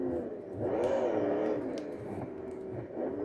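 An off-road car's engine revs in the driving game BeamNG, a mid-pitched whirring drone that rises and falls in pitch, fairly loud and steady with no talking.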